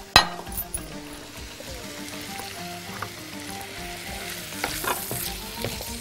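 Onion, boiled chicken, seven-spice mix with nutmeg and mushrooms frying in country ghee, sizzling steadily while a utensil stirs and scrapes the pan in irregular clanks, close up, no talking.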